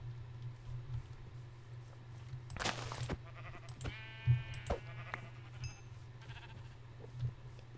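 A sheep bleats in the Minecraft video game: one wavering, nasal bleat in the middle, with a constant low hum and a few soft clicks around it.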